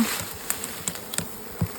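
Carpathian honey bees buzz steadily up close, with individual insects droning past in short swells; no voices.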